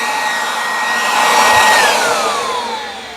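A cordless leaf blower powered by 20-volt lithium-ion batteries runs close by with a loud, steady whooshing airflow and a high electric whine that drops slightly in pitch as it winds down.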